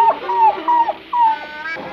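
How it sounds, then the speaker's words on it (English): A cartoon dog whimpers in a run of four or five high, whiny yelps with short gaps between them, loud and close with no talking over it. "Bad dog! Bad dog!"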